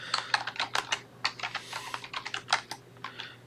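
Rapid keystrokes on a computer keyboard at a root shell prompt, a quick irregular run of close, crisp clicks ending with a press of the enter key, quiet and without talk.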